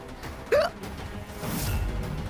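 A single short hiccup, a sharp rising gulp of voice standing out over faint background noise and rustling.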